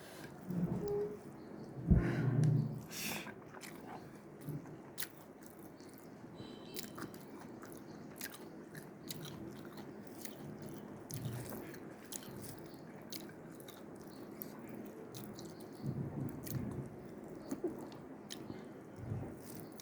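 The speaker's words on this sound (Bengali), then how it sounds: "আমি পাঙ্গাস মাছ খেতে ভালোবাসি।" Quiet, close chewing and biting of fried pangas fish at dinner, with soft crunches and wet mouth sounds repeating steadily throughout.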